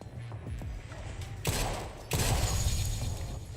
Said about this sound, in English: there's the mortars